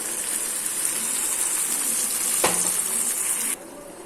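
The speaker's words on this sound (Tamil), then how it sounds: "இப்போ நாம் இதில் இந்த கீரையை ஊற்றிடலாம் அரைச்சி வச்ச கீரையை" Ground greens paste pours into a pan of golden fried onions, giving a steady sizzling, gushing wash of sound that ends abruptly near the close, with a brief sharp tick midway.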